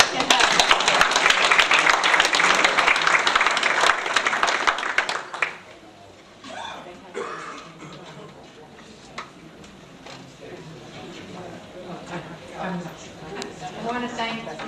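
Audience applause at a film screening and Q&A at the Cinema Arts Centre, a dense burst of clapping for about five seconds that cuts off into a quieter room with scattered sounds.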